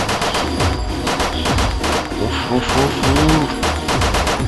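Rapid, dense bursts of gunfire in the video game Occupation 2.5 crackle continuously, layered over electronic game music with a few chirpy tonal effects.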